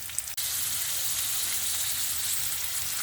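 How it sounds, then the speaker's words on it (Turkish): A potato and egg mixture fries in a pan over medium heat, giving a continuous bright sizzle and crackle that stays steady and close after a brief quiet start. "Orta ateşte kızartıyorum."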